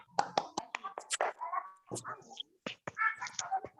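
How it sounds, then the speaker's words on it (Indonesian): A fourth-grade class does the rhythmic spirit clap, a quiet, patterned series of sharp claps mixed with children's chanting voices. "Semuanya tepuk semangat"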